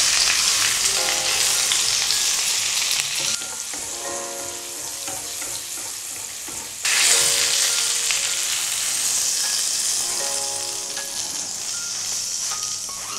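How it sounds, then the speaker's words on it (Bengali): A beef steak searing in a pan hisses with a loud, steady sizzle that dips around the middle, then surges again as if fresh contact is made, with light stirring clinks and no talk. "এইভাবে আমরা সাইডটা সুন্দর করে"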